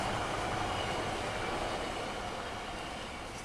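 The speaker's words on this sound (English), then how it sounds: "It's the coaster train." A Coaster commuter train rolls past in Rose Canyon, San Diego, a loud, steady rumble and rail roar that fills the whole stretch without letup, no voices over it.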